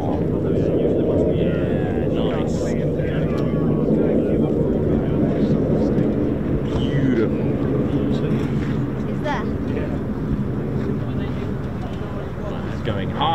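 An aircraft flying a precautionary or simulated flame-out approach drones steadily at moderate distance, a broad engine rumble holding throughout with a person talking over it.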